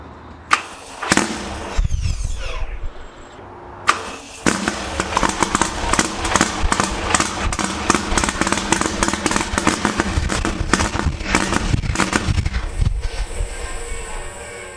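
A 1500 hp Texas Speed LS V8 fitted in a Lamborghini Huracan cranks and fires, with a brief bark before settling into a loud, rough, pulsing idle and repeated throttle blips that crackle and pop up close.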